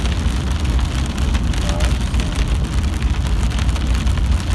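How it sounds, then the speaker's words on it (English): Heavy rain drums steadily on a moving car's roof and windows, a dense unbroken wash of noise with low road rumble underneath, loud and close throughout. "this rain's getting really strong"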